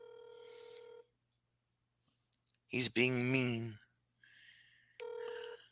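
A telephone call goes unanswered: a steady ringback tone sounds, then a click, a sigh-like voice, and the tone returning, with a voice briefly speaking in between.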